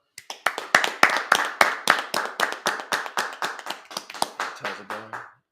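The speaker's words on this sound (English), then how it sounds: "Clap that up." Congregation clapping hands during a Sabbath service in Indianapolis: a steady, rhythmic run of sharp, evenly spaced claps from a small group, ending abruptly as a voice begins.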